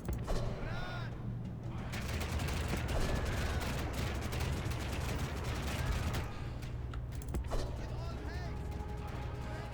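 Dense game gunfire crackles steadily through the scene in a Backstabbers Paradise session played as Armenia, with scattered bursts and rumbling battle noise layered under nearly continuous talk.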